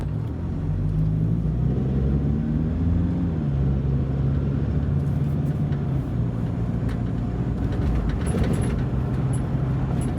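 A diesel 2007 Toyota Land Cruiser Prado driving a rough road, heard from inside as a loud, steady low engine drone and road rumble, with a slight rise and fall in engine note and faint rattles near the end.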